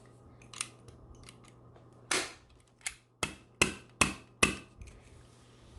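Staple gun driving staples through tightly folded fabric into a bar stool seat during reupholstering: five sharp, loud snapping shots spaced roughly half a second apart, with a softer click earlier, close up, no voices.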